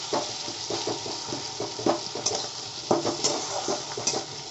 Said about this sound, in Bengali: কাজুগুলো ভাজা হয়ে গেছে